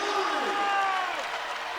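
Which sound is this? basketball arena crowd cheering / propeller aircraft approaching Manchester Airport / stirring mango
basketball arena crowd cheering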